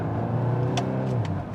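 A Volkswagen Golf R in Nürburgring mode accelerating, its exhaust giving a close, loud, rising engine drone with a deep rumble and a couple of brief sharp pops near the end.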